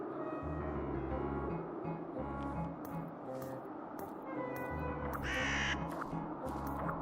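Birds are scared off in the adventure game The Whispered World, with crow-like caws and flutter over a low rhythmic music bed, a few scattered calls of moderate loudness and no speech.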